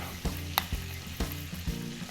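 Steak sizzles gently in a pan with repeated clinks and scrapes of a utensil stirring at a steady rhythm.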